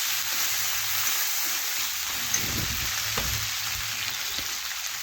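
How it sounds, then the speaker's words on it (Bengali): Turmeric and chili powder sautéing in a pan give a steady, close sizzle and crackle with a few soft stirring scrapes, with no talking. "আর দেখুন মেশাতে মেশাতে মশলা একটু আমি কষিয়ে নিচ্ছি।"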